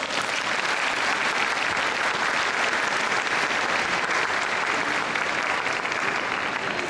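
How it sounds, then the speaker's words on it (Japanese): A large crowd of football fans gives a steady, loud round of applause at the Avispa Fukuoka 2015 kickoff festival at Canal City Hakata, unbroken throughout. "今一度大きな拍手お願いします。"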